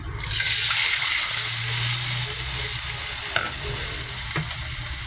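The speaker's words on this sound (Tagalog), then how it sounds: "Para igisa natin yung kanyang sauce." Sauce sautéing in hot oil in a pan for a chicken dish, a loud steady sizzle with a sharp clink of a utensil near the end.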